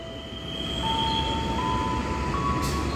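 A locomotive passes close by at Jatinegara station in Jakarta, returning to the depot, with a loud steady low rumble of engine and wheels on rails and faint high-pitched squealing tones above.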